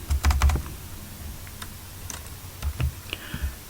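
Someone types a spreadsheet formula on a computer keyboard, producing close, crisp key clicks in irregular quick clusters with short pauses between them.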